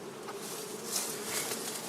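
Honeybees buzz steadily in an open beehive, a dense, continuous drone of many insects heard close up and fairly faint, without speech.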